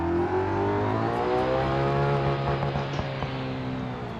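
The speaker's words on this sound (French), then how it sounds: "On entend les turbos qui chargent derrière." Car turbochargers spool and whine behind a revving engine in the BeamNG driving game, a loud sustained engine drone with rising and shifting harmonic tones throughout.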